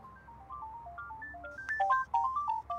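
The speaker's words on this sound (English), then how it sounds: "Wow, these are nice ringtones." A soft, melodic Motorola Motofone F3 ringtone plays a quick pattern of bright tones, growing louder and more chime-like toward the end.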